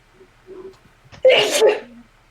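A single loud, close sneeze bursts out after a quiet, shallow intake of breath.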